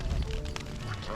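Ducks quacking in a rice field, a dense, continuous chorus of overlapping quacks from a flock, loud and close throughout with no gaps.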